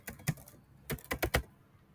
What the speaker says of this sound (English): Now we can type second item, and now we can type third item.